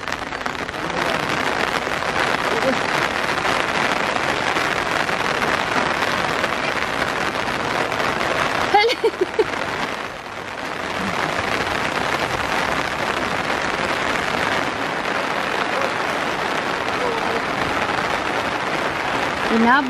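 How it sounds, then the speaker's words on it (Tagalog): Heavy rain pours down on a peanut harvest field, a dense, continuous hiss of drops drumming on surfaces throughout, with voices talking over it and a brief dip in the downpour partway through. "Inabot ng ulan."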